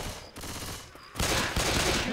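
Gunfire from players shooting in Left 4 Dead 2, a dense burst of rapid shots that swells louder and fuller in the second half of the clip, with no talking over it.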